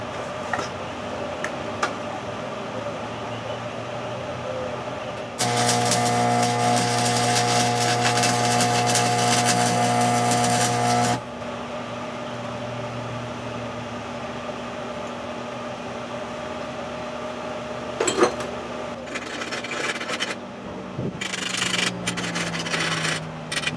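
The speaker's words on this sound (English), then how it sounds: "let's see how well they perform in stick welding" A Hobart Stickmate LX stick welder lays a bead as a dense, crackling hiss that starts abruptly, holds steady for several seconds, then stops, followed by quieter scattered workshop clatter and short bursts of noise.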